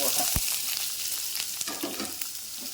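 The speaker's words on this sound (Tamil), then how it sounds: "போட்டு இதை நல்லா வதக்கணும். கொஞ்சம் கலர் மாறுறதுக்கு வதக்குவோம்." Chopped large onion sautéing in oil in a pan, giving a loud, continuous close sizzle with occasional stirring knocks and scrapes.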